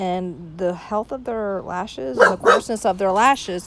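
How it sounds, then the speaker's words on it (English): A pet dog barks and yips repeatedly at close range in a home, its loud bursts overlapping a woman's ongoing speech. "I'm sorry, that's my dog."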